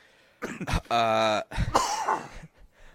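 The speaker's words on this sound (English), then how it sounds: "I just can't do anything but cough" Several rough, close coughs in a short burst, with a strained, voiced sound in the middle and a hoarse throat-clearing trailing off.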